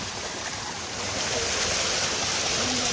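Fast mountain water on the Kedarnath trek, at least a thousand feet up, rushes in a steady, loud, broadband roar that fills the whole moment with no voices.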